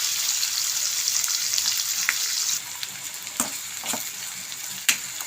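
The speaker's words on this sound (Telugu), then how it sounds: "ఇప్పుడు అదే ఆయిల్లో ఇదిగోండి ఉల్లిపాయలు" Onions and green chillies fry in hot oil, a bright continuous sizzle that eases halfway through, followed by a few sharp clicks and scrapes from the pan, with nobody speaking.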